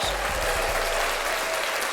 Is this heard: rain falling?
no